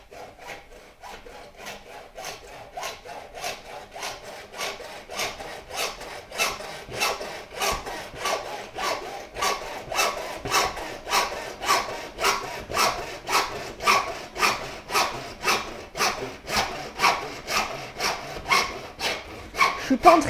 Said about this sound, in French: Je suis pas en train de scier très droit